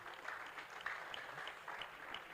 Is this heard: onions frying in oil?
no